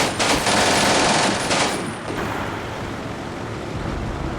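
Dense gunfire in the Combat Mission: Barbarossa video game as German troops are shot up on a road, a loud, continuous rattle of many weapons that eases slightly after two seconds.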